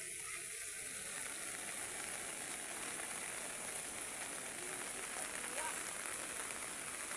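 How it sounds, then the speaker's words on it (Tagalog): Heavy rain pounding steadily on a boat, a dense, continuous hiss of drops that stays even and close for the whole stretch, with faint voices underneath. "At talaga pong malakas ang ulan maghapon."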